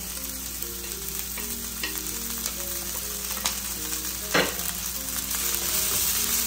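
Chopped green chillies, coriander and mint leaves frying in ghee for biryani make a loud, continuous close-up sizzle, with light stirring scrapes and one brief louder splutter partway through, and no talking.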